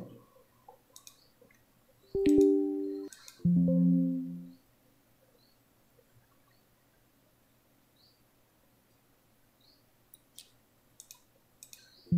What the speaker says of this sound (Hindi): नेक्स्ट नेक्स्ट इंस्टॉल पर क्लिक करना है